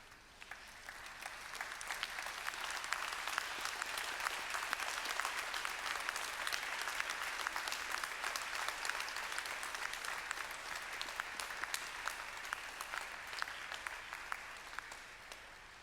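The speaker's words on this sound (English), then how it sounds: "express your gratitude to those who are here today with a round of applause" A graduation audience at a Monash University ceremony gives sustained applause, a dense wash of many hands clapping that swells quickly, holds steady and starts to thin toward the end.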